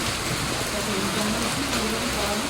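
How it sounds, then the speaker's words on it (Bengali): Heavy rain pouring down outdoors in a dense, steady hiss of drops hitting surfaces, close and unbroken throughout. "অঝোরে বৃষ্টি হচ্ছে"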